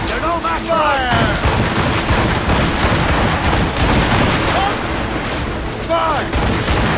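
Ship cannons boom in rapid overlapping volleys in the Assassin's Creed Rogue video game, a dense, loud barrage mixed with shouting crew voices and battle noise.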